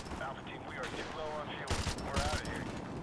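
Gunfire in Call of Duty Modern Warfare Remastered: rapid bursts of automatic shots crackling in the background, growing louder near the end, under people talking.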